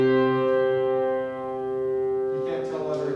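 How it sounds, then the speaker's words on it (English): A sustained instrument chord with no third, ringing steadily with rich harmonics. It is played alone and fades slightly before a brief change near the end. "So here's a chord with no third in it."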